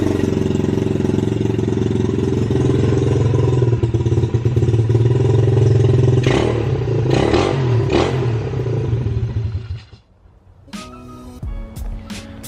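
A pit bike engine idles loud and close with a steady mechanical clatter, revs up a few times in quick bursts, then cuts out, leaving brief metallic clinks.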